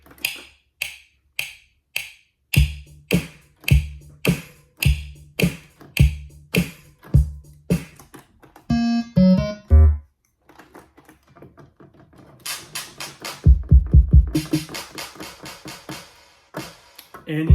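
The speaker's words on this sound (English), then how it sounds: "clap and this tambourine that I added." A sampled drum beat loops with punchy hits, then a clap and a shaken tambourine sample are layered on top, the pattern broken by a short tonal pause before the rhythm resumes, with no voices.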